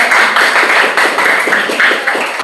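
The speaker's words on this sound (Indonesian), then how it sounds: "beri tepuk tangan dulu buat Mercy." Classroom students clapping together for a classmate, a dense, steady patter of many hands that pulses in slight waves and stays loud for the whole stretch, with no talking over it.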